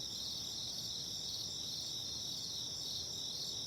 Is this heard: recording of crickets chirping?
yes